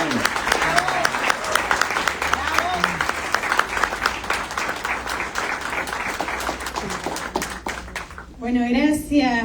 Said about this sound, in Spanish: si me ayudan a recibirla con un fuerte aplauso, ella es la doctora Romina Malano